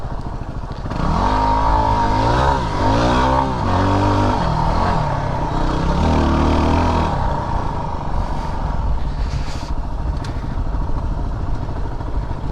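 Yamaha WR250R motorcycle engine revving up and down several times close by, rising and falling in pitch, then settling into a rough steady idle with some mechanical clatter.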